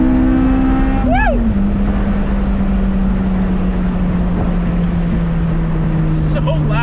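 A Honda del Sol engine revs hard and loud, a sustained droning roar that holds high and then slowly sags, with a brief shift blip near the start and a rising whine toward the end.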